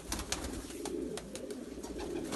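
Pigeons kept by a fancier coo softly and steadily, low throaty murmurs rolling on under faint scattered bird chirps, quiet and close with no talk.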